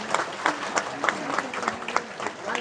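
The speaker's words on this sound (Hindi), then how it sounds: "तालियों से आप लोग स्वागत करेंगे।" Crowd at a Bihar BJP joining ceremony claps to welcome a person onstage, a loose, uneven patter of hands with distinct louder claps, a voice faintly audible beneath.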